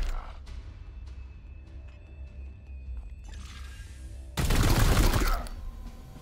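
A single burst of heavy gunfire from the turn-based Warhammer 40,000 game Chaos Gate, on a Callidus assassin mission, erupts loud and dense for about a second after a stretch of quiet game ambience.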